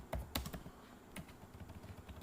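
Fingers type on a computer keyboard in a steady patter of clicks, a few sharper keystrokes near the start, close and moderately quiet with no voices.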